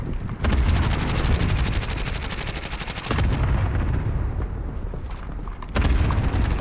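Cluster strike explosions in Call of Duty Warzone: loud, dense bursts of rapid booming detonations in two or three heavy waves, with brief quieter gaps between them.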